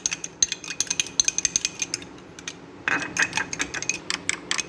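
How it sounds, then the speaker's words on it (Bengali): Eggs with a pinch of salt are beaten by hand in a bowl, producing quick, rhythmic metallic clinks and scrapes close up, with a short pause midway before the beating resumes. "এরপর ওটা খুব ভালো করে ফেটিয়ে নেব"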